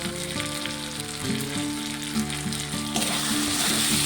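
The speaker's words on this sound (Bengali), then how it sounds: "সবকিছুকে কষিয়ে একটু রান্না করে নেব" Ground turmeric, salt and spices fry in oil in a pan for a Malabar spinach and shrimp chorchori, giving a steady close sizzle with occasional stirring scrapes, while soft tonal music runs underneath.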